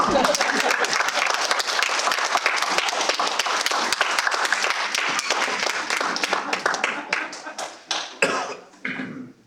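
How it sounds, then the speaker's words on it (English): Applause from a Toastmasters meeting audience fills the room, dense and steady for several seconds, then thins into scattered individual claps as it dies away. "we go ahead and give her a nice round of applause"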